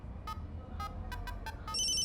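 A phone ringtone chimes in a repeating pattern of short electronic bursts, ending in a sustained tone, with a low hum underneath.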